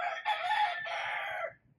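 A chicken gives a short, loud squawking call up close, two quick bursts running together before cutting off.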